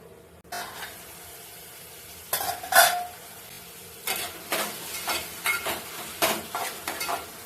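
Ingredients being sautéed in a pan for kheer with salt, heard as a series of stirring scrapes and clinks over a soft sizzle, with a louder burst of spatula strokes partway through.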